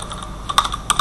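Keys on a computer keyboard typed to enter a password, a few crisp close clicks arriving in two short bursts over a quiet background.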